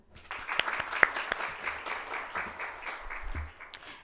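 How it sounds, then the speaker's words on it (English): An audience at a leadership event in Kuwait gives a speaker a warm round of applause, a dense patter of many hands with some sharper claps early on, fading slightly near the end. "Please again, give a warm applause to Dr. Lubna."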